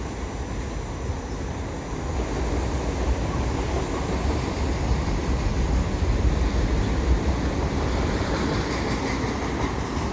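An eastbound CP mixed freight train rumbles past a highway overpass with a broad, continuous roar and faint rhythmic clatter of wheels, sustained throughout at moderate loudness.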